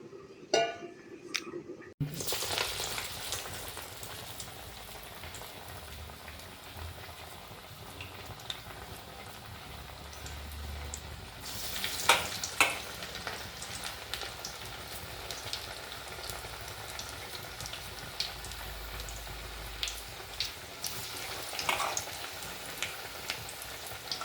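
Masala vada lentil fritters made from ground dal with spices deep fry in hot oil, a steady soft sizzle and crackle running throughout, with brief louder bursts as batter drops in.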